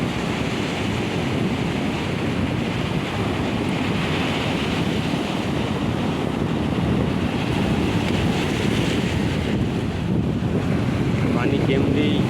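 Steady wind and surf wash along a seashore, with waves breaking continuously under constant microphone wind noise and no clear talk.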